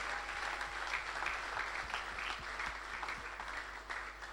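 A church congregation claps in sustained, even applause, fairly faint and distant, with a low hum underneath.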